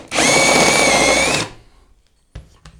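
A handheld or press-mounted power drill runs steadily at high speed for about a second and a half, a loud whining motor tone, then stops abruptly, followed by a couple of faint knocks.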